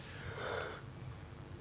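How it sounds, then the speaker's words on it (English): A person yawns once with a long, breathy exhale close to the microphone, quiet and airy, fading after about a second into faint room noise. "don't yawn on the podcast"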